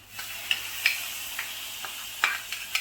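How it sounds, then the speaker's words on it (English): Onions soften in a pan for a restaurant-style chicken tikka bhuna, giving a quiet, steady sizzle broken by a few sharp ticks and light stirring clicks spaced through the short stretch. "we're going to cook this for 3-4 minutes, let the onions really soften up"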